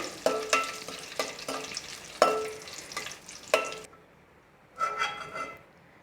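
Green chilies and curry leaves sizzle and crackle in hot oil, with a few sharp stirring scrapes and bursts of spattering before the frying quiets to a softer hiss, then flares up again briefly.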